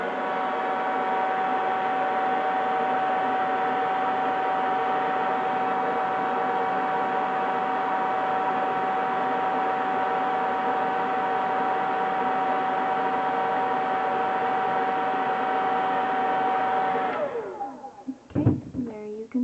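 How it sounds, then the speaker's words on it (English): A hair dryer on its low setting, used to blow 3D eyelash extensions upward, gives a steady, loud whirring hum for about seventeen seconds before switching off, followed by brief handling noises. "So I do the blow dry method, and I just put it on a low setting, nearly close my eyes and blow them up."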